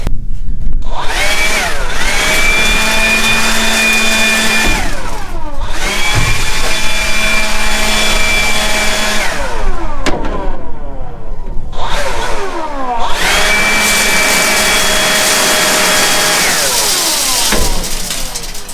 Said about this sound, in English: not the only thing I don't like about this electric leaf blower is she just eats batteries